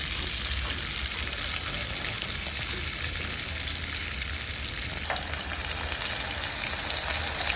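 Cumin seeds sizzle and fry in hot oil and butter for Mumbai-style pav bhaji, a steady close crackle that grows brighter and louder partway through as more goes into the pan.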